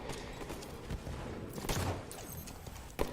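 Quiet gunfire from Halo played in an esports match, a few scattered pops and sharper shots with a louder crack near the end, set against low game ambience.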